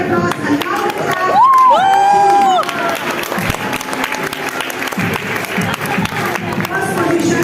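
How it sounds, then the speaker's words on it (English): At a debate competition prize announcement, a crowd claps and cheers loudly, with whoops and a rising whistle-like shout over continuous applause that stays strong throughout. "They deserve a huge round of applause."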